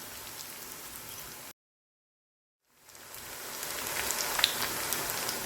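Food fries in a pan on medium heat, a bright, even sizzle that drops out for about a second and then returns, building gradually louder.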